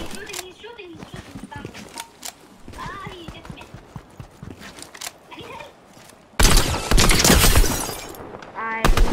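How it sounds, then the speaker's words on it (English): Video game gunfire erupts as a loud, dense burst of rapid shots in the last few seconds, following stretches of conversation between players. "He's shooting."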